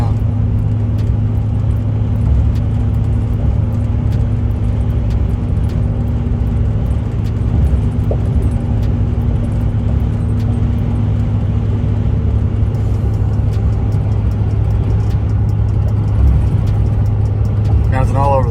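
A 1979 Ford Powerstroke truck engine drones steadily from inside the cab while driving, with a loud low hum and road noise throughout and faint rattles toward the end.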